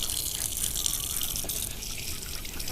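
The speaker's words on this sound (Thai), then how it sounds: "ไปล้างมือก่อนครับ" Running tap water splashes steadily as hands are washed under a faucet at a farm cafe, a constant close hiss and patter over a brief 3-second span.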